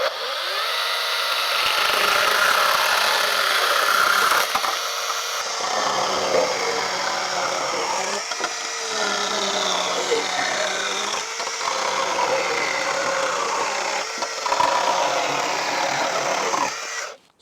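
A power tool trims pallet wood for a DIY compost bin, a steady loud grinding whine running almost without break, with short dips and restarts as the cut goes on.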